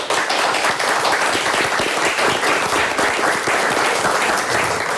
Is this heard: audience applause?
yes